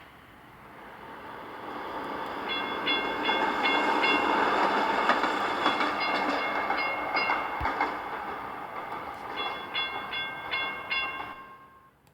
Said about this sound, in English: We can instead catch the number 28 tram.